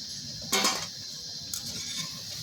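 Deep-fried gram flour (besan) fritters for motichoor laddu are lifted from hot oil with a metal utensil, giving one loud scraping clatter near the start and a lighter clink later over faint background noise.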